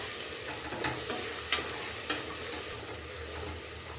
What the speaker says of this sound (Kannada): ಆಲೂಗೆಡ್ಡೆ 1 ಕಪ್ಪು, ಇದು ಎಣ್ಣೆಯಲ್ಲಿ ಸ್ವಲ್ಪ ಹುರ್ಕೋಬೇಕು